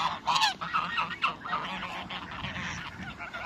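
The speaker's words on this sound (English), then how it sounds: "There's so many ducks" Many ducks and geese at a park pond give loud, overlapping honks and quacks in quick bursts, with a continuous busy flock chatter behind them.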